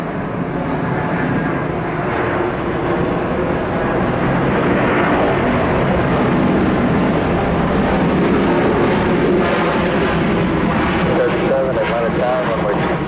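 Airliner taking off from runway 26 left at Atlanta's international airport, a steady loud engine roar filling the whole stretch, with radio-like voices talking over it.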